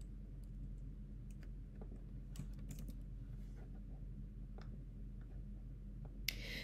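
Computer keyboard keys tapped while entering a proxy name, soft scattered clicks in short irregular bursts over a low steady hum, fairly quiet and close, with no speech.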